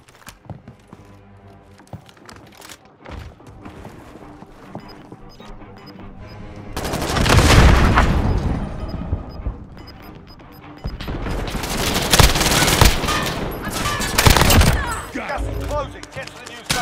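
Video game gunfire: sparse shots at first, then two long, loud stretches of rapid automatic fire with heavy booms, close and intense, separated by a quieter gap, with a voice speaking around them.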